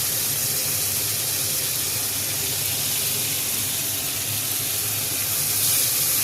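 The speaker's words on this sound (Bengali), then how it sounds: "গরম জল দিচ্ছি" Hot water poured into an egg omelette curry cooking in a pan, giving a continuous rushing, hissing pour with a steam sizzle, steady and close throughout.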